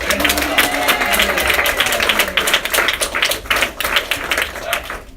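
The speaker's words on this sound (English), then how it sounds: "Let's give another big round of applause for Jimmy Gordon." Steady, loud applause from a crowd at a political office opening, dense clapping sustained throughout with no pause.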